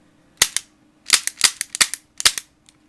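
KJW Sig P229 airsoft gas blowback pistol firing up close, one shot then a rapid string of about eight sharp cracks with slide clacks, loud and alone.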